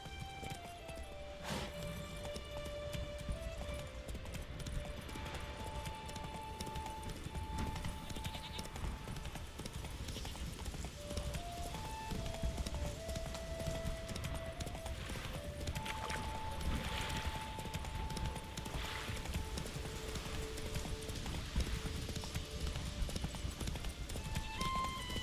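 Roach the horse's hooves clip-clop steadily in a video game, a continuous close rhythm of hoofbeats over a busy backdrop of game sound and faint tones, no speech.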